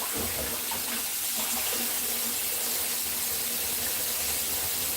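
Tap water runs in a steady hissing stream while meatballs for subs are rinsed under it, close and continuous throughout, with no voices.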